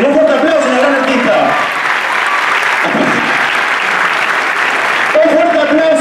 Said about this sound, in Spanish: Un fuerte aplauso a la gran artista.